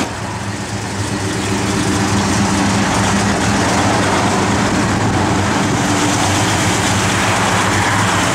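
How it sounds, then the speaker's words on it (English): Heater blower motor of a 1969 Plymouth Road Runner convertible runs with a loud, steady, broadband whirring rush that holds constant throughout, with no talking over it. "Blower motor does work"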